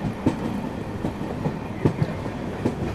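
Saraighat Express passing by in wet weather near the Teesta river, a steady rolling rumble with rhythmic wheel clacks on the rail joints, close and continuous with no talk.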